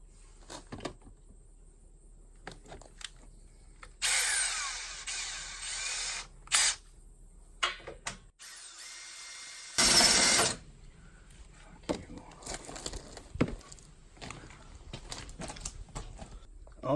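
A drill boring holes into the front of a 2011 Chevrolet Camaro LS with a small oiled bit to mount a tow car base plate. The high whine comes in two loud bursts of a few seconds each, separated by clicks and quiet handling.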